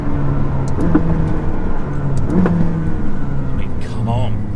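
A McLaren 600LT accelerating hard, a steady engine drone that builds with a few rising notes while someone talks over it from inside the cabin.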